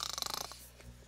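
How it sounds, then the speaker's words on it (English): A person snoring nearby during a Minecraft play session, a rapid run of rhythmic rasping pulses in the first half second that then trails off into quieter breathy noise. "Your snoring is too loud, person."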